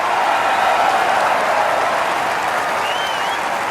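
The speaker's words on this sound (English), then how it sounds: "Crowd's going wild out there. This place is absolutely buzzing right now." Crowd cheering and applauding at a golf course in the EA Sports Rory McIlroy PGA Tour video game, a steady, dense wash of clapping and cheers that holds loud throughout without a break.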